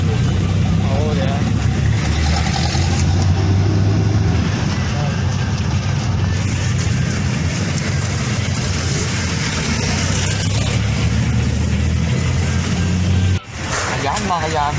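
Car moving through traffic, a steady engine and road rumble filling the cabin throughout, with people talking over it and a sudden dip near the end.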